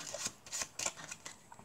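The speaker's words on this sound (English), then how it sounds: "we're going to give them another shuffle" A deck of playing cards is shuffled by hand during a card trick, giving several quick soft riffling bursts in a loose rhythm, quiet and close with no talking.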